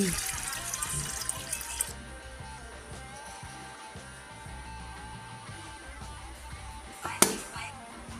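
Water running and trickling into an electric kettle being repaired for a faulty heater and thermal switch, a steady faint splashing flow with a brief sharper clatter near the end.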